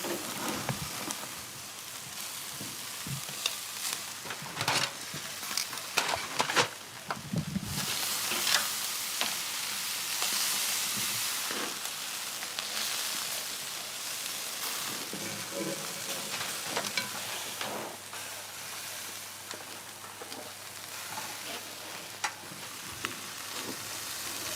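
Octopus sizzling on an Aussie BBQ, a steady soft crackle and spit of frying with occasional sharper pops, close and fairly quiet, with no talk.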